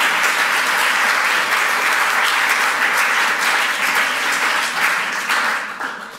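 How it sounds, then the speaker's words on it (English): Warm, loud audience applause at a literary event on narrating Europe, a thick continuous clapping from a full hall that holds steady for about six seconds before starting to thin out. "May I have a very warm applause for both Maria and Linda."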